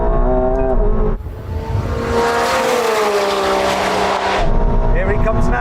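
A Lamborghini Revuelto and a McLaren 750S launch from a 50 mph third-gear roll, engines roaring hard and rising steadily in pitch, with a brief lull before the loud, sustained acceleration swells and then cuts off.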